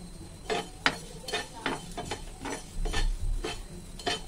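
Whole coriander seeds dry roasting in a pan, stirred with repeated scraping and rattling strokes at a steady, moderately loud, close pace, with no talk.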